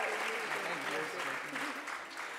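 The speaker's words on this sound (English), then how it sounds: "Let's give them one more round of applause for their great films" Dense, steady applause fills the room from an audience at a film screening interview event, sustained clapping with faint voices underneath.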